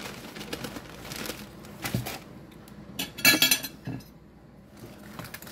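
A sauce with brown sugar being mixed in a bowl, utensil clinking and scraping against the sides in irregular bursts, with a louder run of clatter near the middle.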